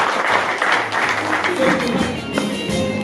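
Wedding guests applauding at a Rwandan celebration, a steady crowd clapping at moderate loudness with voices mixed in.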